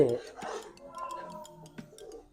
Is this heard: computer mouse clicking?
no